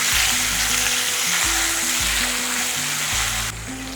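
Ginger paste with salt sizzles loudly in hot oil with tempered spices for a vegetarian masoor lentil curry, a close, steady frying hiss with stirring over a low background melody; the sizzle drops abruptly near the end.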